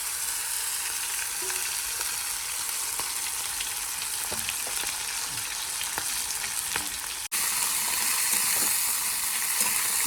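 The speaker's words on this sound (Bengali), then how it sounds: "তেল গরম হয়ে গেছে কড়াইতে একটু জিরে ফোড়ন দিয়ে দেবো" Cumin seeds temper in hot oil in a wok, producing a constant close crackling sizzle with scattered small pops, broken briefly by a single sharp click before the frying continues.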